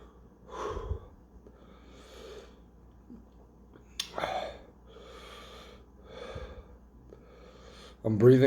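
Heavy breathing after eating Geum B "Devil of Fire" spicy noodles comes as a series of sharp, close huffs and gasps spaced a second or two apart, with a louder burst at the end.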